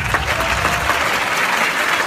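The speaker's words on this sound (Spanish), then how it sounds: "Vamos a aplaudirlos a los rectores de las universidades nacionales" Sustained applause from a crowd at a Venezuelan opposition political rally for national university rectors, dense and loud throughout with no pauses.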